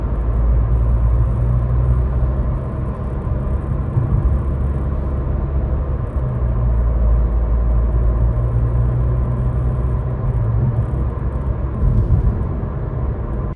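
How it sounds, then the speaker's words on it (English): Inside a 2022-2026 Honda Civic while driving, a steady loud road rumble and engine drone fill the cabin, with faint intermittent rattling from the infotainment system buried in the noise. "I'll insert a clip of the infotainment system rattling"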